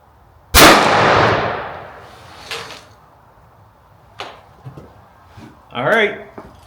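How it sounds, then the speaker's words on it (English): A Winchester Model 120 Ranger 12 gauge shotgun fires a 3-inch Winchester Longbeard No. 5 turkey load outdoors: one sharp, loud blast with a long decaying echo, then fainter knocks and handling sounds. "The Winchester Longbeard 3-inch number 5s out of my childhood gun, my Winchester Model 120 Ranger 12 gauge."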